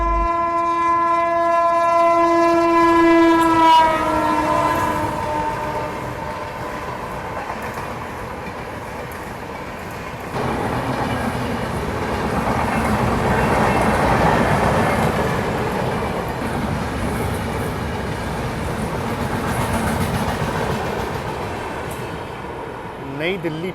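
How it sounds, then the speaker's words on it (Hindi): The Purushottam Express overtakes at speed, opening with a long loud horn blast that fades into a sustained roar and rumble of the passing train, with a voice audible underneath. "ये मेरे ख्याल से पुरुषोत्तम एक्सप्रेस है जो हमें ओवरटेक कर रही है अभी"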